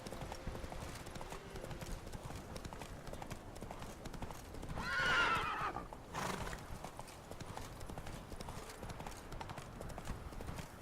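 Horse hooves clip-clopping at a steady gallop across rough country in the video game The Witcher 3, with a brief whinny midway, continuous and up close under game ambience.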